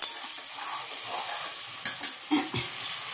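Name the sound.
ridge gourd poppy seed curry cooking down in pan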